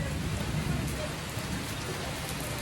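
Heavy rain pours down in a dense, continuous roar of drops at close range, steady and loud throughout.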